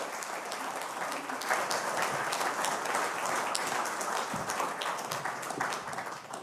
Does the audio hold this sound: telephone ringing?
no